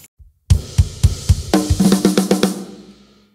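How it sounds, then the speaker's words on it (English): A short drum fill from a song, played on a kit: a few spaced hits, then a quick run of rapid strokes ringing out, close and loud with no talking. "And there's this small fill-in in the middle."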